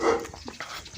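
A village dog gives a quick, close bark that dies away within a second, with a few faint yips after it.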